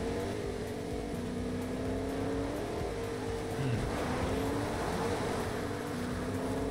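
Cars driving in a Fortnite custom match: a steady engine drone runs throughout at moderate level, rising slightly partway, with no talk over it.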